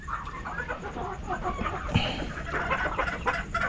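Chickens cluck repeatedly in a farm pen, several birds heard close by with short overlapping calls and one sharper squawk midway, no speech over them.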